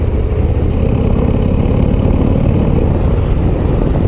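Steady low rumble of a Harley-Davidson Road Glide ST bagger with its long-stroke 117 V-twin, cruising in fifth gear around 1800 rpm at about 80 km/h, loud and continuous with wind noise.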